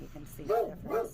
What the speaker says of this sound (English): And that is my dog barking at the geese on the lawn.